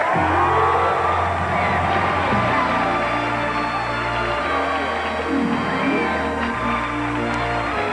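An audience at a Christmas variety show cheers and whoops for a guest star. A dense, continuous wall of crowd noise mixes with music underneath and holds steady throughout.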